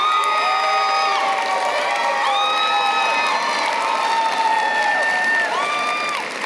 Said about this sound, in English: Make some noise for your graduates.